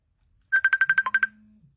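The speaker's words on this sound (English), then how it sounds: "is a phone call coming" Incoming-call phone ringtone: a quick run of about nine bright, evenly spaced electronic beeps followed by a short low tone, loud and close with no talking over it.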